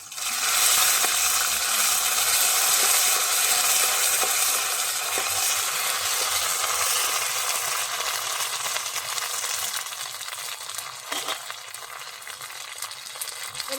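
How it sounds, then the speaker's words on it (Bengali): Cumin seeds, ginger and green chilli sizzle in hot oil, a loud, dense, steady frying hiss that eases slightly toward the end, with faint stirring clatter and no talk. "এবার আমি কটা জিরে ফোড়ন দিয়ে দিচ্ছি এবার আমি আদা আর কাঁচা লঙ্কা ফোড়ন দিয়ে দিচ্ছি"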